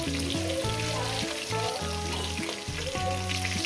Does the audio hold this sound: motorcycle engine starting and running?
no